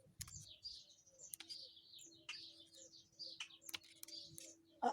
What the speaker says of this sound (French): Ah, il y a un petit oiseau, là, de nouveau,